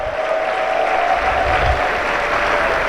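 Teachers in a large hall at an award ceremony give a sustained round of applause, a loud, dense roar of clapping with a faint tonal hum underneath and a low rumble midway.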